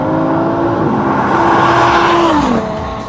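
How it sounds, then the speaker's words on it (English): An Audi R8 V10 with an Akrapovic exhaust revs loudly and close, a steady engine drone whose pitch climbs and then drops, heard alone without talk. "this car happens to be equipped with the Akrapovic exhaust, which, well, as you can hear in the background"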